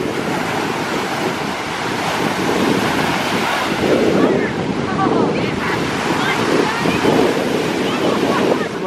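Waves washing along a Lake Michigan beach shore near Chicago, a steady broadband wash with wind buffeting the microphone throughout, no clear breaks between surges.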